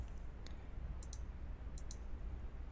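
Computer mouse clicks while editing a page on an online shopping-mall platform: a few soft, crisp clicks, some in quick pairs, over a quiet steady room hum with no voices.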